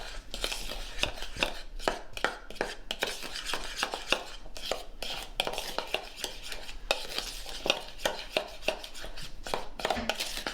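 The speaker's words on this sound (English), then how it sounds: "in a bowl we're going to add our flour, the sugar, and the cinnamon, and we're going to give this a good mix" Flour, sugar and cinnamon are mixed in a bowl for a crumb topping on blueberry buttermilk muffins, with a brisk, steady run of scraping, tapping strokes close by and no talk.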